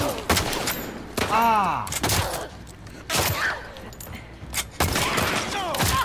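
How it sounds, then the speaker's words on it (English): Gunfire in the video game The Last of Us Part 2 comes in sharp, repeated bursts across the clip, mixed with game sound effects and a pained cry from the player. "Who the fuck is shooting me?"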